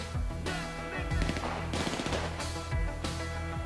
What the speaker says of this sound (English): Mike, you planning on shooting these bricks?